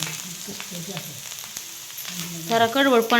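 Round slices of salted bitter gourd sauté in a hot pan with red chili powder, a steady close sizzle with scraping and stirring clatter, a voice chiming in briefly over it near the end.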